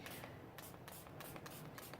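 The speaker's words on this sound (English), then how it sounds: "this is my homemade spray, few drops of gel food coloring with water" Homemade spray of gel food coloring mixed with water misted from a spray bottle onto a painting, a few short hissing bursts close by with soft rubbing between them.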